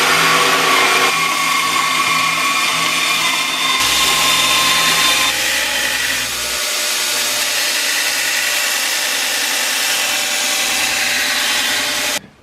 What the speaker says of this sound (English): we're going to be using a jigsaw for this